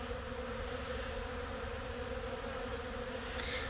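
A steady, dense buzzing of many honey bees fills the clip continuously, close and fairly loud, with no voices.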